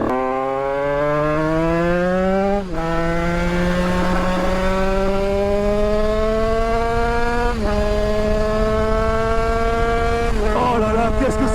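A powerful motorcycle accelerates hard, its loud, close engine note climbing steadily through three quick gear changes, with a sustained rising howl between shifts and no talking.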